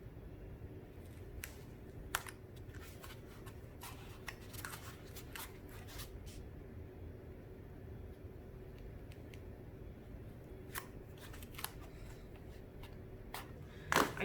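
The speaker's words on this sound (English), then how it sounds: "I'm cutting some little triangle shaped slits out so that when the EVA foam bends over, it doesn't have this excess that kind of buckles up and wrinkles" Small triangle-shaped slits cut into EVA foam for a boffer shield, a series of quiet, sharp snips and clicks at irregular intervals over a low steady background, close and faint.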